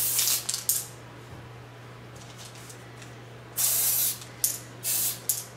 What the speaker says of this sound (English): while I finish spraying these guys here